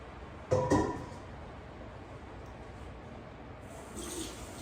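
A hand is rinsed under a running kitchen tap during cooking, with a short close gush of water followed by a faint steady trickle.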